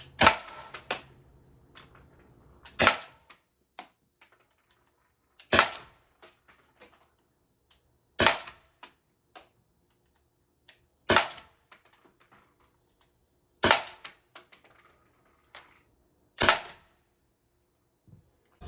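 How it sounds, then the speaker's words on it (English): Byrna launcher firing projectiles in a penetration test, seven sharp cracking shots spaced about every three seconds, loud and close, each followed by short clattering impacts with no talk. "We're ready to fire 7 shots."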